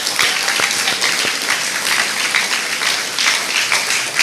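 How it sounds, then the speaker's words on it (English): Applause from the audience at an eighth grade graduation ceremony honoring the graduating class, a dense, loud, continuous round of clapping from many hands with no talk over it. "Shall we give them a big round of applause?"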